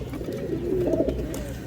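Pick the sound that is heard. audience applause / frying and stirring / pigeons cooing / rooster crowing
pigeons cooing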